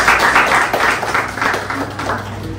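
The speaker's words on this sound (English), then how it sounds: "So we will clap on this beautiful occasion." Audience clapping at a university gathering, loud and fairly rhythmic with a steady low hum underneath, sustained throughout the short stretch without talk.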